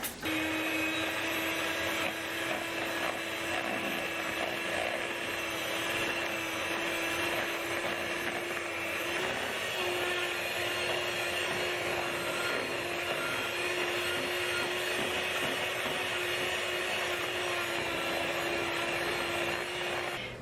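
An electric mixer whirs steadily and loudly for a long stretch, beating potatoes with butter, sour cream and milk into a twice-baked potato casserole, a constant motor drone with no talking.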